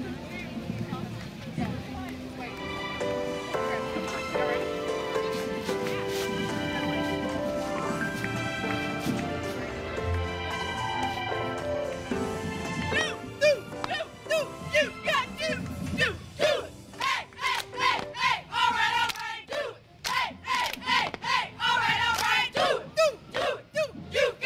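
High school cheerleaders chant a cheer at an outdoor Christmas parade, rhythmic shouted calls in sharp repeated bursts rising over crowd noise and music in the latter half.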